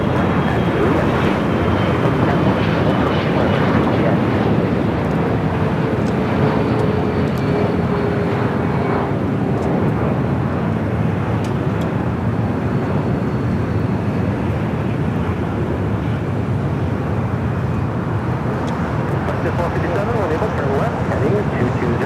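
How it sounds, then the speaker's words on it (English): A Boeing 787-9 Dreamliner on Tokyo Haneda arrival lands at Los Angeles LAX, a steady broad engine roar with faint wind noise, loud and continuous throughout. "Coming in from Tokyo, Haneda, the 787-9 Dreamliner."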